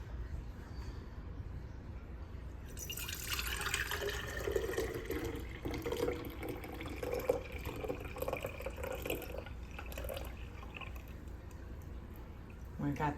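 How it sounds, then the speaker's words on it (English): Apple scrap vinegar pours and trickles through a fine mesh sieve in a steady liquid splash that starts about three seconds in and runs on, moderately close, with faint talking underneath. "So I'm gonna go ahead and take today and strain this off. So I just take this fine mesh sieve here."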